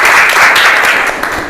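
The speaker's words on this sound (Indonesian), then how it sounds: "tepuk tangan buat kita semua" A classroom of students bursts into loud, dense group applause during an Indonesian lesson, a short burst that stays full throughout.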